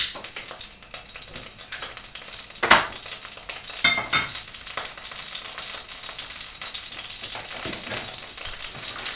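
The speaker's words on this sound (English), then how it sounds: "I'm going to lightly warm a frying pan for our spiced butter that we're going to do." A frying pan warming on the stove for spiced butter gives a steady, close sizzle and crackle, with a couple of sharper clanks and stirring scrapes along the way.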